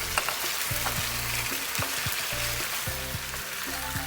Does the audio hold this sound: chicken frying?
yes